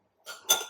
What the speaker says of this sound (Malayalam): ഐസ് ഇട്ട് കൊടുക്കുക.